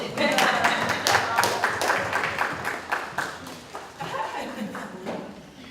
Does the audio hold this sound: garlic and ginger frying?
no